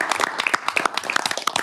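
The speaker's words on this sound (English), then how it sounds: "I think we should give Metro Transit a round of applause." Transportation committee members give Metro Transit a short round of applause in a meeting room, a small group clapping unevenly with distinct individual claps, fairly close.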